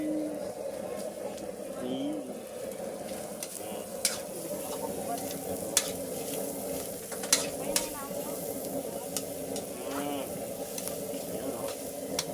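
Dinuguan stirred and cooking in a pan gives a steady sizzle and scraping stir sounds, with occasional clinks and low voices talking nearby.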